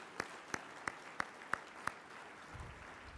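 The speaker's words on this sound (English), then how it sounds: "One more round of applause for Dr.Haifa Fakhouri." Six crisp, evenly spaced claps ring out over a quiet room at an annual gala, sparse and rhythmic rather than a full ovation, followed by a faint low rustle.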